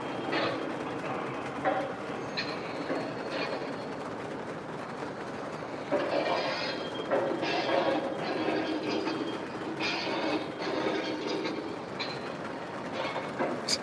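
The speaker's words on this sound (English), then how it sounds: "It's a long train. And it's moving now too, pretty good." A long coal train rolls past in the open, with a steady rumble and wheel clatter. Bursts of squealing and rattling from the cars rise and fall at mid distance.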